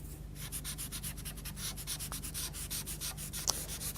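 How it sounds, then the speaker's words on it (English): White pastel is rubbed over a drawing in quick, rhythmic back-and-forth strokes, a close, dry scratching that continues steadily throughout. "I'm just going to rub the white over the top of most of that."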